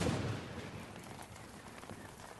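Steady broadband hiss of heavy rain, dense and continuous, with a few soft thuddy bumps underneath and no voices.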